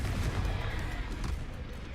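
Confringo blast spell in Hogwarts Legacy, a dense rumbling burst of explosive impacts and crackling debris that rolls on loud and continuous for the whole moment.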